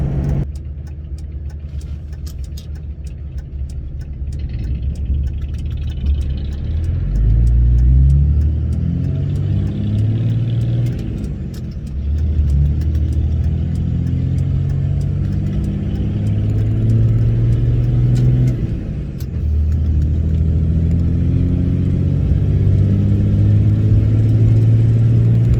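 Pickup truck engine driving along a road and shifted into tow haul mode, a steady close rumble with rising revs and gear changes repeating in waves, no talk.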